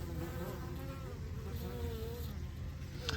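Honey bees buzz around a beehive, a dense continuous drone of many insects close by, steady and alone without talk.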